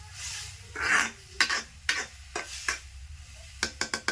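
Tomatoes frying in a pan with salt sizzle softly beneath a run of spoon scrapes and clinks against the metal, the strokes coming irregularly and then in a quick burst at the end.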